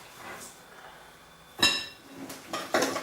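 Green papaya salad with tomatoes and green beans being mixed for Thai som tam, heard as a few sharp utensil clinks and knocks against a bowl, quiet in between and close, with no talking.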